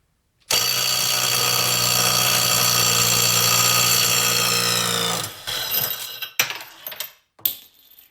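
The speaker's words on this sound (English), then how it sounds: "a 12-volt compact impact could take off 182 foot-pounds" Harbor Freight Hercules 12-volt compact impact wrench hammering loudly and continuously for about five seconds at close range, then stopping, followed by a few short clunks and rattles.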